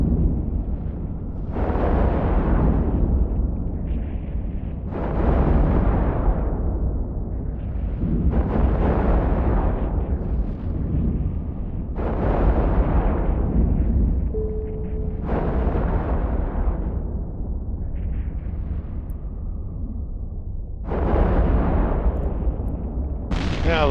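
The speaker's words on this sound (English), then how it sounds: "I love the sound of autocannon gunfire in the morning" Autocannon fire in the space game EVE Online: repeated heavy booming bursts, each lasting a second or two and then fading, recurring every few seconds throughout, loud and close.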